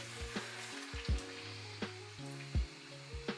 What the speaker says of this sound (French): on va laisser mijoter tout ça environ 10-15 minutes